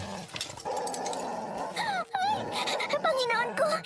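A big black dog growls and whines with rising and falling tones over continuous rough noise, as if pushing against a door, close and fairly loud.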